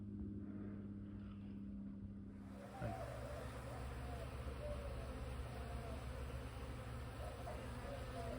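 A steady, dense insect buzz fills the air from a few seconds in, a swarm droning continuously at moderate volume with a low hum underneath.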